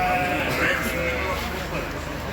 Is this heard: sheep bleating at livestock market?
yes